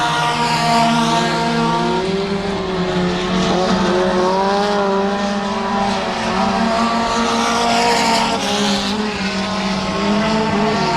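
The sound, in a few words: mini stock race cars racing on dirt track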